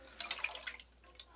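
Water poured from a cup into a bowl for a simple kitchen science experiment on oily feathers, a short splashy trickle of about a second that fades out, close and clear with no talking.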